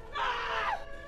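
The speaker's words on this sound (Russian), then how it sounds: "Слышны чьи-то крики." A single shrill scream of about half a second rises out of a foggy town scene in a monster film, loud and close with no talk over it.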